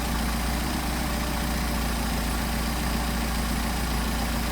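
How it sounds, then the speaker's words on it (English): A car engine idles on a pair of Solex 44PHH carburetors at a little over 800 RPM, giving a steady, loud, even drone with a low pulsing rumble that never changes through the whole stretch. "we're going to a little bit over 800, so we want to back off on the RPM. On our idle speed."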